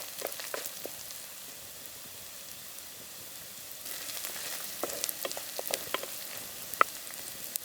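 Onions, dried red chillies and curry leaves sauté lightly in a pan with a soft, quiet sizzle. The sizzle grows busier halfway through, with scattered stirring clicks and taps.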